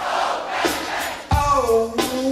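A live concert crowd at a 1998 show in Pratteln shouts a call-and-response chant in short, loud bursts, answering in unison with a roar of voices between calls.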